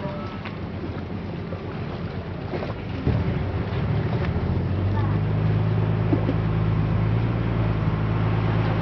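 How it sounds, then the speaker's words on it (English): A low, steady ferry engine rumble grows stronger partway through as the boat maneuvers through a three-point turn, droning continuously with some wind noise across the microphone. "The boat now is doing the 3-point turn."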